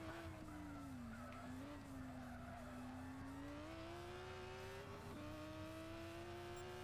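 Race car in Gran Turismo 6 braking hard at night on a bumpy section during a Le Mans race, engine note dropping and sweeping under a steady hiss of tire scrub, continuous and loud without speech.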